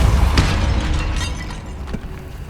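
A Depulso spell in Hogwarts Legacy lands as a loud, dense blast with sharp cracking bursts, rumbling on for a couple of seconds in a tomb setting.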